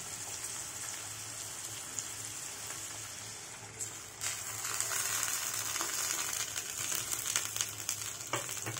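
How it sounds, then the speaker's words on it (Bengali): Cabbage paste added to frying onions in a pan for a cabbage and soya mash, a steady crackling sizzle that grows louder midway, with scattered pops and stirring, fairly quiet overall. "এর মধ্যে আমি আমার ওই পেস্ট করা বাঁধাকপিটা দিয়ে দেবো"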